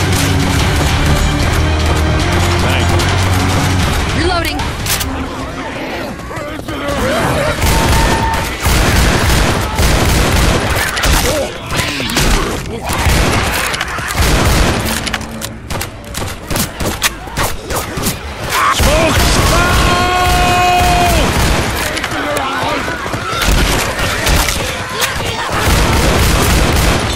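Heavy gunfire fills a Left 4 Dead 2 match on the Fatal Freight campaign. Loud, dense volleys of shots and booms keep up almost without a break, with occasional shouted voices over them.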